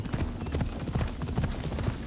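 Horse hooves clip-clopping in the Assassin's Creed Shadows video game, a steady rapid trotting rhythm of muffled thuds that continues throughout.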